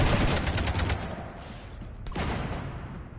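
Sci-fi gunfire in Mass Effect 3 rattles out as a dense burst of rapid shots at the start, easing off before a sharp blast and further shots near the end, loud and close.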